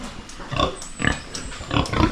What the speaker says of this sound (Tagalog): So bali 5 lahat yung ating mga baboy dito na nakastahan.